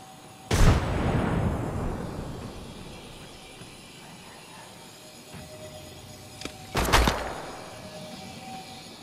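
A frag grenade explosion and gunfire in the Apex Legends video game: one loud close blast with a long rumbling decay, followed later by a second sharp burst.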